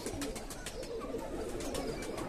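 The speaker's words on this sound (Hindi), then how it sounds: "ये टोंक वाले कलसरे कबूतर हैं" Tonk Kalsare pigeons cooing nearby, soft repeated coos in an uneven rhythm over a steady hum of background noise, fairly quiet, with no speech.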